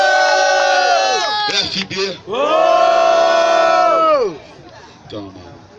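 A crowd at a Brazilian street rap battle final roars and shouts loudly in a sustained swell for several seconds, then fades, with a host's voice over it.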